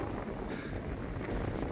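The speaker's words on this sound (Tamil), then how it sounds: "ஏன்னா காற்றுல ரொம்ப அடிக்குது." Strong wind blowing on a steep hilltop, a dense continuous roar buffeting the microphone with no break, loud and close, no voices.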